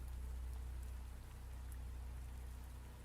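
Steady rain falls in a jungle as an audio-story sound effect, a dense, even wash of drops with a low rumble beneath, continuous and fairly close, with no voices.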